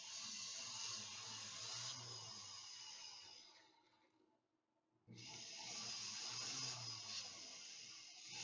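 A rotary tool fitted with a hard burr grinds steadily, a high buzzing whine that drops away briefly mid-way before resuming at full strength.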